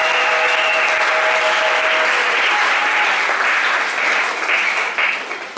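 A church congregation applauding during a Sunday worship service, sustained loud clapping from many hands with a faint held tone early on, swelling steadily then tapering off toward the end.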